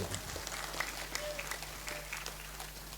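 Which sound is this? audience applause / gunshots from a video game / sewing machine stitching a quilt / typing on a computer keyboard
audience applause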